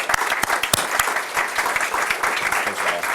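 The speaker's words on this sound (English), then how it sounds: "So let's give these guys a round of applause." An audience at a school board of education meeting claps steadily for a few seconds, with dense, close, sustained applause and no pauses.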